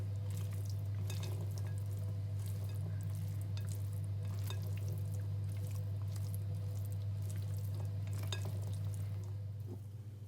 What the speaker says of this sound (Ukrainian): І додаємо сюди зелений консервірований горошок. І також перемішуємо.